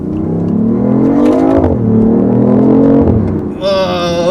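A BMW i8 hybrid sports car under hard acceleration, its engine note climbing loudly in pitch, dropping briefly at a gear change and rising again, then a sudden higher whine near the end.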